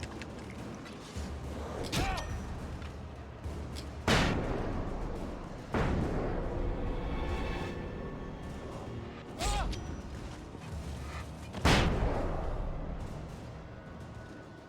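Flashbang blasts in the horror game Alan Wake, several sharp bursts spaced a few seconds apart, each loud and reverberant over a constant droning game soundscape, with faint voices.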